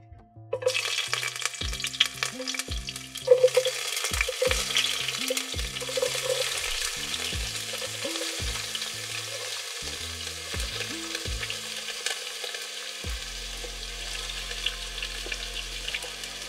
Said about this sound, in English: now we're going to saute our peppers and onions